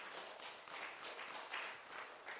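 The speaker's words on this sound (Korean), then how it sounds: "박수 한번 해주시오." A church congregation applauds during a Sunday service, a soft, steady patter of many hands heard from a distance, with no talking over it.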